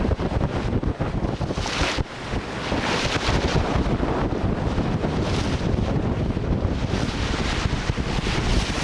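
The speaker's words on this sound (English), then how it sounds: "We are motor sailing today for the last few hours, just with the mainsail up and no head sail." Steady wind rushes and waves wash past a sailboat motor sailing at sea about 20 miles offshore, with the mainsail up and no headsail. The noise is loud and continuous the whole time, and no one speaks.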